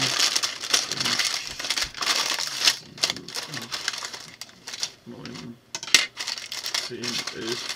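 Plastic bags of BlueBrixx building bricks for the Western buffalo herd set 104517 are handled, giving steady crinkling and rustling with small clattering bursts, close up, while voices talk now and then.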